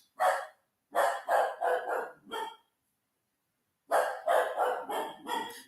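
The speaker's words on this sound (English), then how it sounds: "The dogs are barking." Dogs bark indoors in two bursts, a quick run of four or five sharp barks, a pause of over a second, then another run of five, loud and close with no talk.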